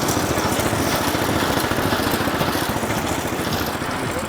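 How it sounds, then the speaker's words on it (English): A Ronaldson Tippett drag saw engine runs close and loud, a steady rapid low chuffing beat with a mechanical clatter that holds even throughout. "this is my Ronaldson Tippett Dragsaw"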